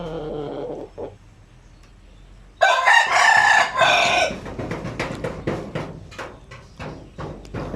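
A young, roughly five-month-old pure Basilan rooster crows loudly and close by, a single drawn-out cock-a-doodle-doo, followed by softer clucking and scattered farmyard noise.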